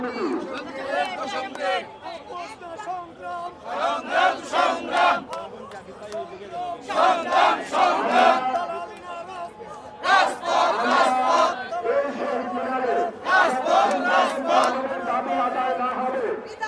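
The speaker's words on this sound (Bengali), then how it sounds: "এই মুহূর্তে তারা বসে বসে স্লোগান দিয়ে তাদের অবস্থান অব্যাহত রেখেছেন।" Seated protesting primary school teachers chant slogans in unison, a leader's call answered by loud group responses in repeated bursts, with crowd noise and chatter between the chants.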